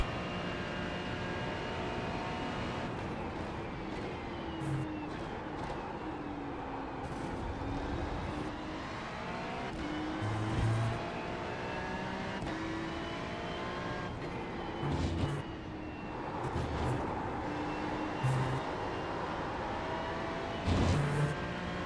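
Ferrari GT3 race car engine in the iRacing sim at VIR, a steady high-pitched drone with shifting harmonics as revs rise and fall, with brief gear-change bumps and no talking.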